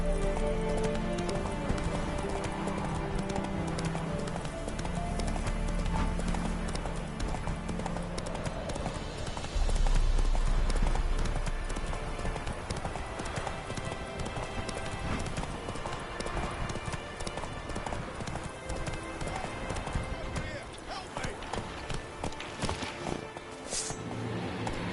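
A horse gallops steadily from start to finish in The Witcher 3, its rapid hoofbeats loud and continuous against a dense game soundscape with what sounds like rain.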